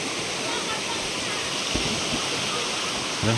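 Steady, dense rush of a waterfall feeding a clear rural stream, a loud continuous roar filling the whole clip with faint splashes underneath.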